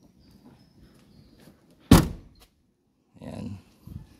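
A door on a Mitsubishi Montero Sport shuts with a single loud, solid thunk, followed by quieter rustling and handling sounds.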